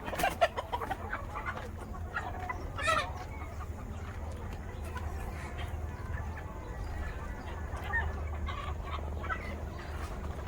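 A flock of hens clucking at evening as they head into their shed, a continuous chorus of overlapping clucks and calls, close and fairly loud, with occasional sharper squawks.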